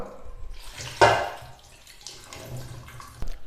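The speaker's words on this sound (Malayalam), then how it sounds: "ഇനി വേവിച്ച് വെച്ചിരിക്കുന്ന കടല വെള്ളത്തോടു കൂടി തന്നെ ഇതിലേക്ക് ചേർത്ത് കൊടുക്കാം" Cooked white chickpeas with their water pour into a curry pan in a brief, close splash, followed by softer liquid sloshing and a small clatter at the end.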